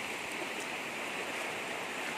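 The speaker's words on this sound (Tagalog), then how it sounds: "At ito lang po yung ilog." River water flows near a waterfall on a farm lot, a steady rushing wash at low level, constant throughout with no voices over it.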